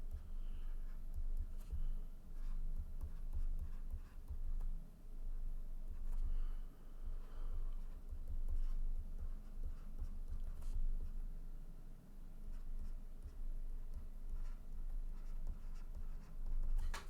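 A lecturer writes out section properties for a trial shape during a civil engineering lecture on tension member design. Continuous close scratching strokes run unbroken for about seventeen seconds, with no talking.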